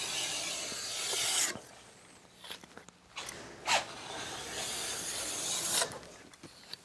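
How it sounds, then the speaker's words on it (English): A scraper rasps back and forth over the base of a cross-country ski, lifting fuzz in repeated close, dry scraping strokes with brief pauses between passes. "run that in both directions because the fuzz has a tendency to lie down when you run the scraper over it"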